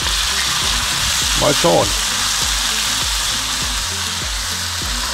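Onions sizzle and fry steadily in a pan over a grill heated with briquettes, a continuous close crackle with brief stirring scrapes and a short spoken remark over it.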